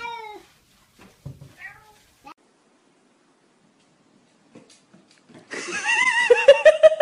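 A cat meows a few times with short, plaintive cries separated by quiet gaps, followed near the end by a louder, sustained wail over rising noise.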